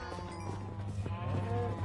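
A sheep in the video game Minecraft Bedrock Edition lets out a single short, wavering bleat over a low steady hum, moderately quiet and close.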